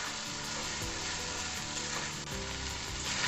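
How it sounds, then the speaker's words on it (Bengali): Spice paste for mutton kosha sautés in hot oil, with a dense, continuous, close sizzle and spatter and the occasional soft scrape of a stirring spoon beneath it. "বেশ কিছুক্ষণ ধরে আমি মশলাটা কষিয়ে নেব"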